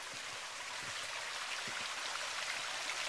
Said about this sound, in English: there's a little babbling brook.